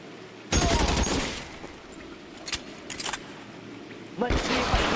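Sharp gunshots ring out in LA Noire, a loud burst at the start, a few quicker cracks in the middle and another near the end, with game ambience running between them.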